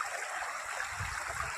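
Floodwater running across a submerged road in rural Bangladesh, a continuous rushing, gurgling flow close by, steady and unbroken with no speech.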